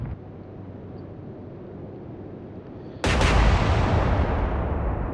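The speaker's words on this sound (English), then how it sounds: "Prince of Wales shooting again." Battleship Prince of Wales firing its main guns in the Atlantic Fleet WWII naval combat game: a sudden loud broadband blast that hangs as a long rumbling roar over steady sea and ambient noise.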